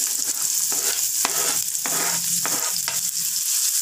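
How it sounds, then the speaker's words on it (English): Onions frying in hot oil give a loud, continuous sizzle close by, broken by a few scraping stirs of a utensil. "Fry the onions till golden brown."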